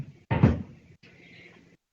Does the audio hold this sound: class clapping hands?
no